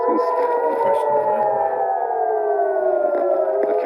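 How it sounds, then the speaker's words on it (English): Civil defense air raid sirens wail across Jerusalem during a missile alert, a loud, continuous rising and falling tone that fills the air. "I can hear sirens in the distance and now all around us as well"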